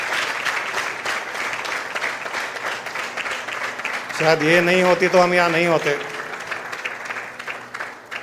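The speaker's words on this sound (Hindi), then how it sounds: "सारा का सारा क्रेडिट आप सब इनको दे सकते हो तालियां बजा करके" Audience applause at a Thursday spiritual satsang gathering, steady and fairly loud through the whole stretch, with a person speaking over the clapping partway through.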